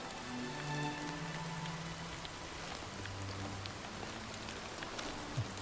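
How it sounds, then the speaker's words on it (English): Steady rain patters down in the video game Oblivion, a dense, even hiss of drops on surfaces that holds at one level throughout, with no voices over it. "especially with the rain going on."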